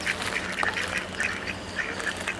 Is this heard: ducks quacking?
yes